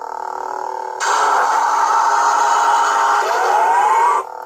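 Lightsaber soundboard with a 2-watt speaker plays its motor effect, a loud steady electric hum with a rising whine sweeping upward near the end, standing alone without any voices before cutting off abruptly.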